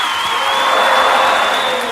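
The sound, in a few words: audience applause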